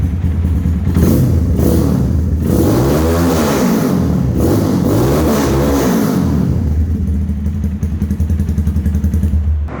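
Close, loud revving from a Kawasaki Ninja 250cc replica motorcycle engine, with two pronounced throttle swells rising and dropping over a steady idle, some clatter and thumping, then settling back to a rough idle.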